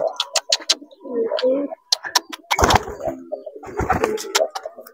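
Pigeons cooing at a bird market in Brebes, soft throaty coos mixed with sharp chirps and a clattering bump, close by, with people talking intermittently alongside.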